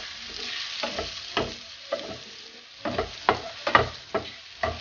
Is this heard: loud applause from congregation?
no